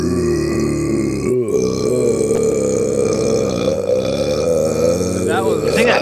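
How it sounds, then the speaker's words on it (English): A long, loud, drawn-out burp rumbles close to the microphone during a gaming session, with people talking over it. "I heard the burp too."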